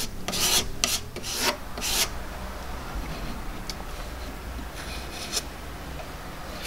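Wood filler pressed and smeared hard into a drill hole in MDF with a scraping tool, giving several close rasping rubs in quick bursts, then quieter scraping over a soft background hiss.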